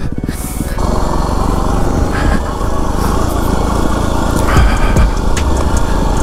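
Yamaha WR250R dirt bike engine revving hard during wheelie practice, a loud, close, continuous buzzing drone that surges and rises in pitch as the throttle opens, with no voices.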